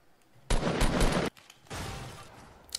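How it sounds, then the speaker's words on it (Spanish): Gunfire in the video game Fortnite comes in two loud rapid bursts, the first a sharp near volley of under a second and the second a longer, somewhat softer stretch of shooting. "Disparos izquierda."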